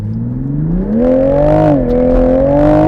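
A 2021 Toyota Supra 3.0 twin-turbo, a light rear-wheel-drive car, accelerates hard from a standstill; its loud, close engine note climbs steadily in pitch, dips briefly at a shift, then rises again with no talking.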